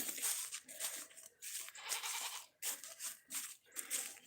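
Goats on a farm bleat during chores in a series of faint, breathy calls with short gaps between them.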